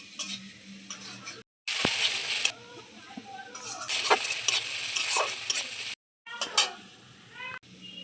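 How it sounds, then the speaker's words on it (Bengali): Ground turmeric, chilli, cumin and coriander frying in a pan while being stirred, soft sizzling bursts broken by short silent gaps and scraping stir strokes, fairly quiet and close. "মশলাগুলো সব ভাজা হয়ে গিয়েছে"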